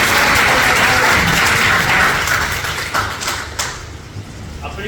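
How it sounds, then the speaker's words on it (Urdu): A room full of people claps together in a loud, dense burst of applause that holds steady, then thins out and fades toward the end. "سمپل تالیاں بجا کر."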